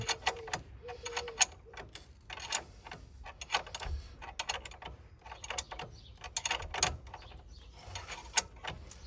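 A ratchet wrench with a socket tightens the suspension wishbone bolt during a ball joint replacement on a Citroën C5 or Peugeot 407, giving a run of quick, close, dry clicking bursts with short pauses between strokes.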